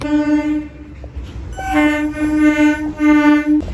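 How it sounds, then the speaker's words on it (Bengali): A train horn blares loudly in two long blasts, the second held steady, over the rumble of a train pulling into a station nearby. "এই যে ট্রেনটা ঢুকেছে"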